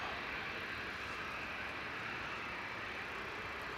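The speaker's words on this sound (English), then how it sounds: "diese Ankunft ist Eurowings aus Düsseldorf" A Eurowings airliner arriving from Düsseldorf at Manchester Airport, heard as a steady, broad roar of jet engines held at a constant level throughout, with no talking.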